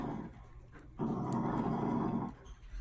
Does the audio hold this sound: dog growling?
yes